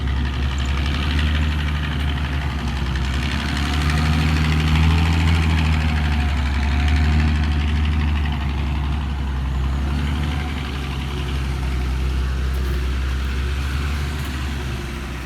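Tractor engine labouring through a muddy field, a heavy low diesel drone that swells and eases as it pulls, steady and fairly close for the whole stretch with no talking.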